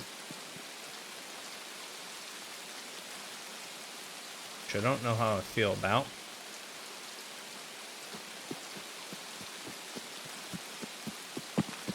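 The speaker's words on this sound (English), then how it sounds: "Alright, we went big time rain here." Heavy rain falls in the Escape from Tarkov shooter game, a constant hiss with scattered droplet ticks toward the end, while someone speaks briefly over it midway.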